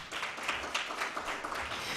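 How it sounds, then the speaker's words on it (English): A round of applause at the finals of the 12th AKMCC, Kenyatta University versus Africa Nazarene, honoring a partner: scattered clapping from an audience, faint and somewhat distant but sustained for the whole stretch with distinct individual claps. "let's give him a round of applause"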